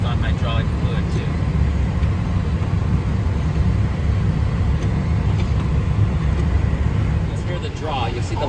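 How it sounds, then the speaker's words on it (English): An Airbus A320 auxiliary power unit spins up, heard from inside the cockpit as a steady, loud broadband roar that holds even from start to finish. "That's the APU starting up. So you just started the auxiliary power unit."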